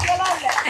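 An audience claps together at a Tamil public gathering, a dense burst of applause lasting under a second, loud and close.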